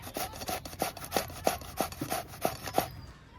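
A bottle gourd is grated by hand for kofta in a home kitchen, a rhythmic series of about ten scraping strokes at a brisk, even pace, close and distinct, trailing off at the end.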